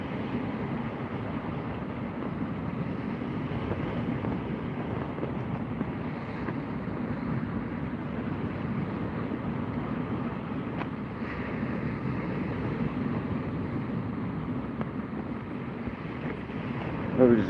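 Strong wind of around 30 mph blowing across a kayak at sea, a steady broad rush with low buffeting that holds evenly throughout.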